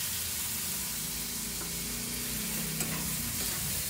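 Broth poured into a hot frying pan sizzles and hisses close up while a utensil stirs through it, a steady bubbling fry with faint scraping and clinks against the pan.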